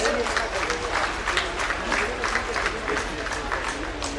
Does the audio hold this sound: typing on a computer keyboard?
no